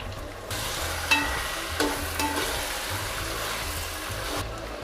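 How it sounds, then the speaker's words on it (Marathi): Mixed vegetables for a vegetable biryani fry in spice masala in a pan, giving a steady close sizzle throughout with a couple of brief stirring scrapes and no talk. "आता मसाल्यामध्ये आपण त्यांना घातल्यात ह्या अगदी थोड्या वेळात शिजून येतात त्यांना शिजायला जास्त वेळ लागत नाही त्याच्यामुळे ह्या भाज्या शिजत आहेत"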